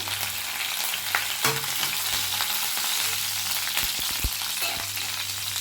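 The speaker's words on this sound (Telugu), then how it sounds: "పప్పులు వేస్తున్నాయి మిర్చీలు కూడా వేద్దాం" Lentils and green chillies fry in a pan for a chutney tempering, a dense continuous sizzle close by with a few sharp pops and stirring scrapes, no talking.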